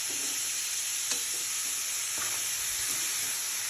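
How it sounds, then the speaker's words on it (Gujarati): Pigeon peas being stirred in a hot pan, a steady bright sizzle running throughout with a few soft scraping knocks from the spoon, no voices. "તુવેરો એડ કરીને મસ્ત મિક્સ કરી લેવાનું"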